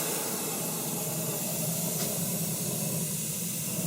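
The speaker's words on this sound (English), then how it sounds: "So I'm going to put some spray on the rim, just around." An aerosol can sprays in a long continuous hiss around the rim of a calfskin timpani kettle, steady and close with no talking.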